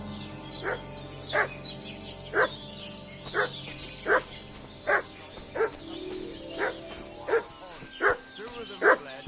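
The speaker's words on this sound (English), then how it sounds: "What's that dog making such a fuss about?" A dog in a video game barks about a dozen times at a steady, evenly spaced rhythm, each bark sharp and mid-distance over a low ambient background.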